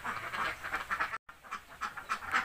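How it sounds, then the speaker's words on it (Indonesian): A flock of egg-laying ducks quacking inside a duck pen, with dense, overlapping calls close by and a brief silent break partway through. "Kali ini saya lagi berada di kandang bebek"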